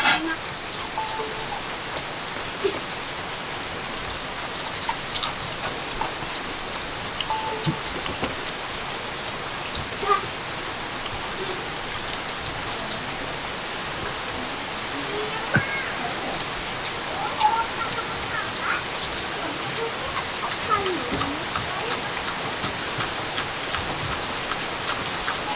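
Steady heavy rain pours down on a rural village setting with dense, continuous hiss and scattered drop impacts throughout, with no voices.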